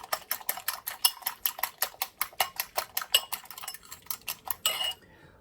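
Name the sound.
eggs being scrambled with a utensil in a cast iron pan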